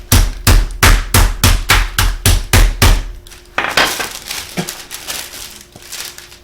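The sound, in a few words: flattening raw chicken breast with a meat mallet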